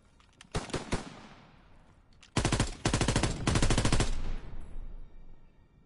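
Rapid automatic gunfire at a shooting range in a video game: a few scattered shots, then long sustained bursts of rattling fire, loud and close with no talk.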